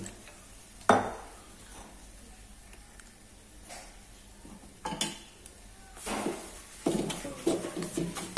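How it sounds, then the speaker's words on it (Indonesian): Red beans with two knotted pandan leaves are stirred in a pan as red bean paste is made, with scattered scrapes and clinks of the utensil against the pan and a few louder stirring bursts near the end. "Kita aduk ya teman-teman."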